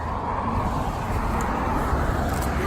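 A Benelli TRK502 motorcycle being ridden, a constant dense roar of engine and wind heard close up, steady throughout with no talk.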